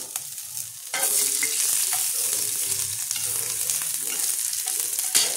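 Chopped capsicum drops into hot refined oil in a pan, bursting into a sudden, loud sizzle after about a second. Close stirring clatter and spluttering frying continue steadily afterward.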